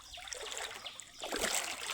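Rain-swollen water flows over rocks, making a faint, brief trickling and splashing with a slightly louder burst near the end.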